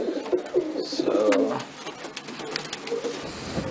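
Pigeons coo nearby in soft, low, rolling calls, including black pigeons kept outdoors, with a few short chirps and faint background noise between the phrases.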